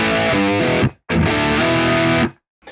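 Distorted electric guitar through a JCM800-style amp simulation with no reverb: two tight, dry, loud chord bursts cut off abruptly, with short silent gaps between them.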